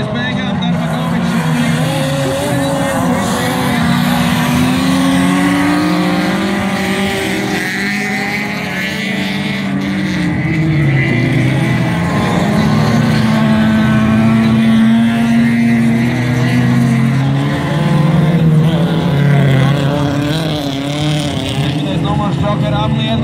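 Rallycross race cars at the 333 track in 2016 roar past one after another, engines rising and falling in pitch, with a commentator speaking over the continuous loud motor noise.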